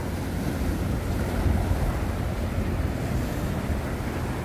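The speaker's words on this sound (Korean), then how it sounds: "낚시하기에는 예, 별로 뭐 지장을 줄만한 파도는 아니지만 그래도 좀 높은 편이네요" Sea waves wash steadily against the rocky shore at Yeongeumjeong at dawn, a continuous broad surf roar mixed with wind buffeting the microphone, with no voices.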